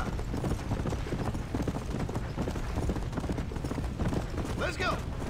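Horse hooves clip-clop steadily in the Red Dead Redemption video game, a continuous close rhythmic clatter with a voice speaking over it.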